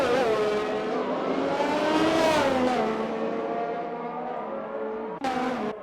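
F1 cars from a Belgium round of a racing video game scream past at high revs, engine pitch climbing and falling as they pass close by, ending in a short sharp burst of another car.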